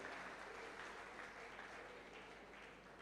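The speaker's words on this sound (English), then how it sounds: "Can we have a thundering round of applause for the chief guest of the ceremony?" An audience at a conference ceremony claps for the chief guest, a faint, distant and steady round of applause that continues evenly for about three seconds.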